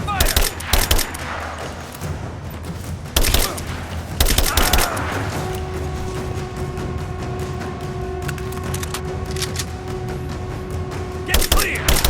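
Gunfire bursts and sharp shots crack through a combat scene in Rise of the Tomb Raider, loud and close, with several intense clusters separated by a sustained droning ambience and a steady hum in the background.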